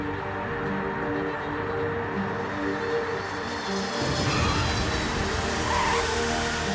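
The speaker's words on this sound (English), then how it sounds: "The plane's 20 rear wheels touch down." Antonov cargo plane landing with its 20 rear wheels touching down and braking hard on the runway, a loud sustained engine and tire roar that swells as the wheels hit, with no talking.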